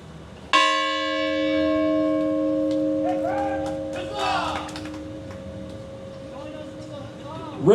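A single bell strike rung at a 4th of July celebration in Bennington rings out loudly and decays over several seconds, with a murmur of voices midway and another strike starting at the end.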